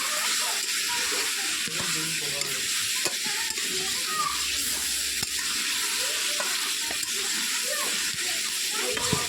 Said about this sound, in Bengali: এবার আমি দিয়ে দিচ্ছি টমেটো এবার ভালো করে টমেটোটা না মজা পর্যন্ত আমি নাড়তে থাকবো